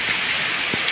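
Heavy rain pours steadily in a close, continuous broadband hiss during a flood, with no talk.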